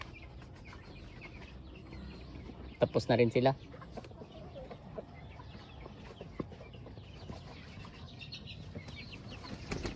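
Chickens cluck softly in the background, with a short burst of louder squawking and wing flapping midway, under quiet speech.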